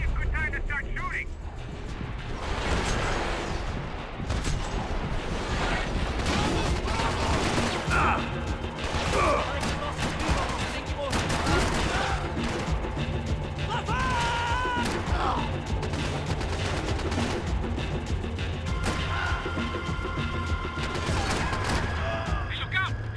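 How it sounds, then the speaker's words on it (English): Gunfire and clattering weapon mechanisms in the video game Max Payne 3, dense and continuous bursts of shots with crashes layered under game voices and music. "This might be a good time to start shooting."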